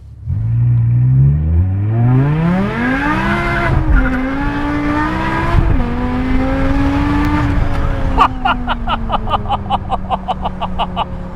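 A loud supercharged BMW M5 engine revs up and holds a high, rising supercharger whine, with gear-like shifts and a sharp crackling rattle toward the end.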